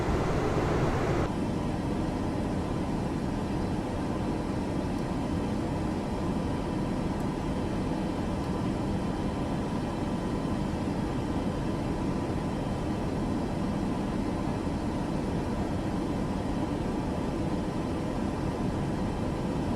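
A Boeing airliner in Microsoft Flight Simulator 2024 gives off a steady, unbroken broadband roar of engine and airflow noise, with a louder burst at the very start and then an even drone, and no talk.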